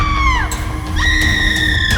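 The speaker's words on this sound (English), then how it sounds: "She screamed." A woman screams in a horror-story sound effect: two long, piercing shrieks that waver and slide downward, loud and close over a dark rumbling background.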